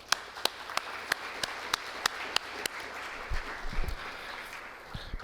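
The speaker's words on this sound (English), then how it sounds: "So I'd like to give all them a round of applause real quick" At a city community policing forum, a sparse audience claps for the police department team. Distinct individual claps ring out over a thin background of applause, along with a few low bumps and knocks.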